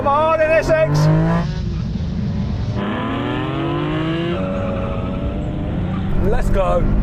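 A Honda NSX race car in a Japanese GT racing video game revs and shifts through gears at close range, its rising engine whine overlapping other cars' engines and a brief tire squeal.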